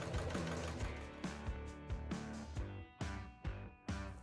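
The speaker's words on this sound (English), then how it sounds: "Now watch how easily this could sew through multiple layers of denim" A Juki HD9 straight stitch sewing machine runs through multiple layers of denim, a quiet rhythmic mechanical chugging with regular needle thumps at a moderate pace, no talking.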